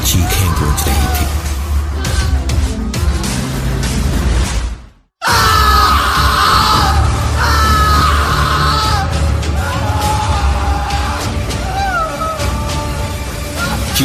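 A man screaming in a Hindi horror story, loud, drawn-out wailing cries that break off for a moment of silence, then resume over dramatic background sound.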